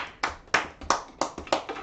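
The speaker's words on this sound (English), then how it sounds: "Everyone give a round of applause for the wonderful Leaf Oakbridge." Hand clapping, six or seven distinct claps at an uneven pace, close and fairly sharp, more like a single person or a small group than a full crowd.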